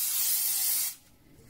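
A short loud hiss of cooking spray coated into a bowl for doughnut dough, lasting under a second before cutting off to quiet.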